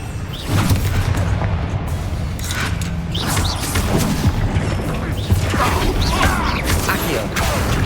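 A fire spell cast in the game Hogwarts Legacy sets off booming, whooshing bursts within a loud, dense mix of continuous combat noise and rumble.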